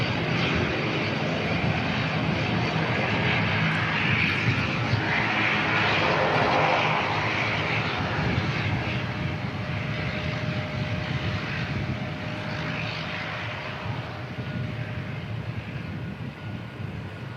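Dash 8 turboprop aircraft engines give a steady, loud, broadband roar with a faint tonal hum, sustained throughout at an airport and slowly easing slightly toward the end.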